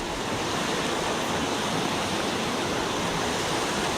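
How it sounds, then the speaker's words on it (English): A waterfall in a Lake District valley, a steady dense rushing roar of falling water, constant and fairly close with no voices. "I think it's worth it for the waterfalls, or the waterfall."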